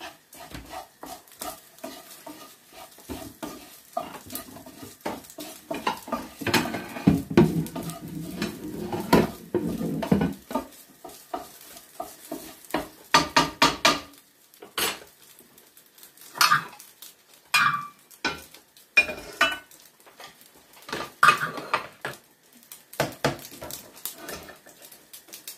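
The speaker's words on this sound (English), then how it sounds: "I'm going to get a plate and serve some up for you" Chicken curry is served onto a plate, bringing a run of pot clanks, spoon scrapes and cutlery clinks in uneven bursts, with a soft sizzle early on and quieter gaps between.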